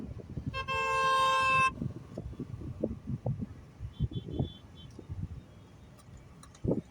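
A car horn blares in a long held, harmonic toot near the start, amid a traffic jam in Vijayawada, followed by softer engine and road rumble with faint distant honks and a short knock near the end.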